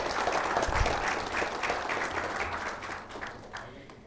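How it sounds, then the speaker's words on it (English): A conference audience at a healthcare management event applauds a speaker, a steady wash of many hands clapping at moderate distance that holds for a few seconds and then begins to thin out. "A round of applause for Mr. Vivek."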